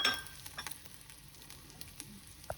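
An egg and capsicum curry sizzles softly in a pan as the eggs go in, a faint crackle with light patter and stirring taps, quiet and close.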